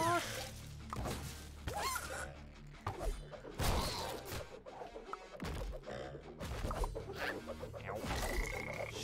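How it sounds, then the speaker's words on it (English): Video-game toad croaks sound in a chaotic mix of crashes, whooshes and smashing effects, with repeated throaty croaking bursts scattered through the busy, loud action. "why did I make a toad noise?"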